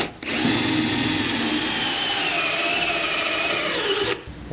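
Power drill enlarging bolt holes to 9/16 inch in the metal bed of a 2022 Chevrolet Silverado, one continuous loud whine lasting about four seconds.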